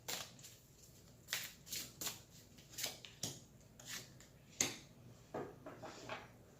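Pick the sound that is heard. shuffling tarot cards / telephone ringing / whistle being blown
shuffling tarot cards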